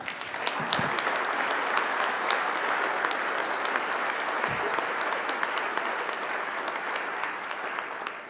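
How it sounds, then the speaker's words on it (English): An audience at a panel session claps steadily for several seconds, a dense, even wash of applause heard close with no talk over it. "Should we give a round of applause for our panels?"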